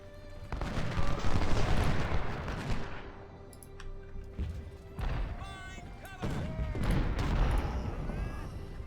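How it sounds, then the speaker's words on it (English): Artillery cannons firing in the Ultimate General: Civil War video game, several booming reports across the battlefield, loud at first then trailing off and resuming amid clatter and shouting voices. "Alright, cannons are opening up."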